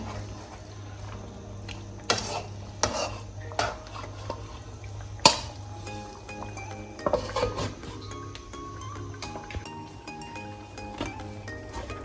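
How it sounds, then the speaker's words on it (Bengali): A spoon stirs chicken meat in a metal cooking pot, making irregular scrapes and sharp clinks against the pot, close and fairly loud, with quieter pauses between strokes over a low steady hum. "এখন নেড়ে ঢেকে দেবো মাংসটা সিদ্ধ হওয়ার জন্য"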